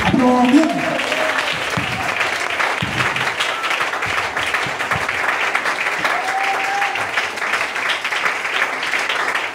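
A church congregation gives sustained applause and acclamation to God, with a continuous wash of clapping and scattered cheers and voices rising through it.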